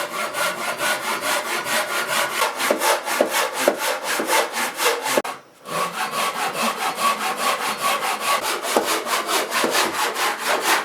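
Hand saw cutting through a piece of old timber, a steady run of loud rhythmic back-and-forth rasping strokes with one brief pause midway before the strokes resume, no voices.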